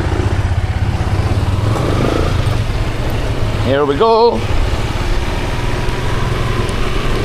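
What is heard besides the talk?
motorcycle engine running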